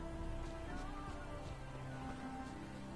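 Steady rain pattering in the video game The Witcher 3, a faint continuous hiss of falling drops with no voices over it.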